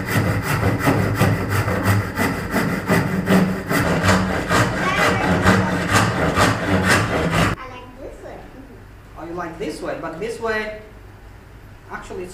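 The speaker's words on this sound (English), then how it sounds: "I'm getting good with my handsaw!" A handsaw cutting through bamboo in fast, even rasping strokes, loud and close, then stopping as people talk over quieter handling noise.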